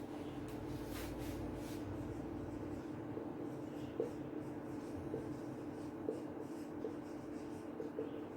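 Marker or chalk writing on a board in a classroom during a class XI English lesson: soft, faint scratchy strokes with a few light taps, under a steady room hum with no talking.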